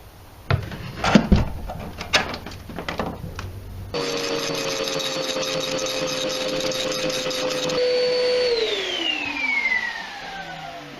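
Homemade workshop dust extraction system run with power tools: a few close knocks and clatters, then a motor starts with a steady loud whine and hum, holds, and spins down with a falling pitch.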